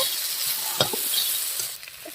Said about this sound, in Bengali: লঙ্কা আর পেঁয়াজটা হালকা করে ভেজে নেব